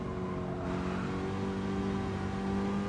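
A steady, droning car engine hums continuously at moderate volume, with a slight shift in tone partway through, an engine-swapped car racing at Daytona Road Course in Gran Turismo 7.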